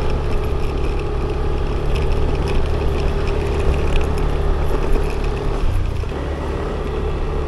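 A Yamaha Aerox scooter rides along a road, its engine giving a steady loud hum with constant wind rush and a slight dip near the end.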